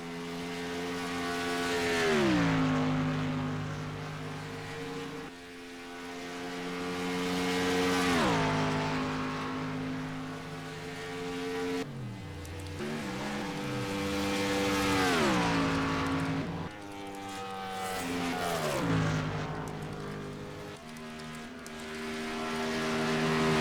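Race car engine roaring through laps in a heat race at Indy, the 8X machine circling with its engine note rising and falling in repeated sweeps as it passes, loud and continuous with no talk.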